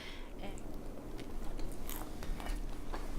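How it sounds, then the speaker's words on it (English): Close, quiet crunching bites and chewing of a turkey burger on toasted bread, a few soft crisp snaps over a muffled background. "So I'm gonna take a bite of this."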